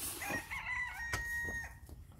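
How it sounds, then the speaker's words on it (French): A rooster crows once in a long drawn-out call, moderately distant, while outdoors among his hens in a vegetable garden where potatoes are being planted. "il est content là le coq"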